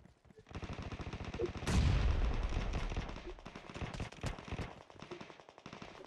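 Rapid bursts of automatic gunfire in PUBG Mobile rattle close and loud, with one heavier blast midway and scattered single shots trailing off, while voices talk faintly underneath.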